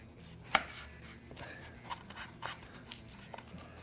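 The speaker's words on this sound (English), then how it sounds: "So I'm gonna take my large chef knife and try and slice evenly as possible" A large chef knife slices through homemade smoked bacon on a board, giving a few soft, close cuts and one sharper knock, quiet and irregular against low background noise.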